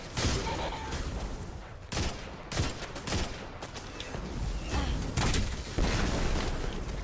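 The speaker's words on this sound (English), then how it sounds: "So it's high impact sniper rifle I'm using at the moment" High impact sniper rifle shots in the game Destiny 2, heard as several loud, sharp booming reports spaced irregularly over a dense background of in-game noise and other firing.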